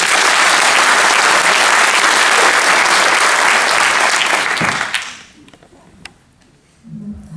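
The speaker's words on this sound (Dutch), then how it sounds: "Geef hem een groot applaus." A large crowd at a UNICEF World Day event gives a big round of loud, dense applause that holds steady for about five seconds, then cuts off into near silence with a few faint sounds.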